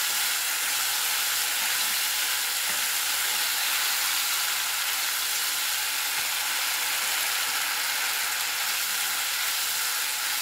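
Spice masala being sautéed in a pan for a vegetarian chhana curry, a dense, even sizzling hiss close up that stays steady for the whole stretch, with no talking.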